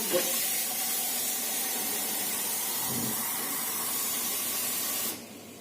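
Water pours steadily into a couscous pot of vegetables and meat, a near, even splashing hiss that runs several seconds and then cuts off.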